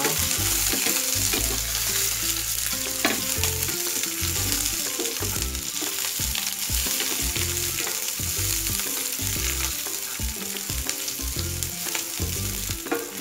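Garlic sizzles steadily in hot oil for fried rice, a loud, continuous crackling fry with soft stirring scrapes throughout and no voices.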